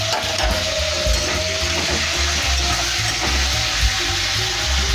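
Bay leaf, six green chillies, a tomato and ginger sizzle loudly in hot oil for a vegetarian cabbage dish, a dense, continuous frying hiss with stirring scrapes throughout.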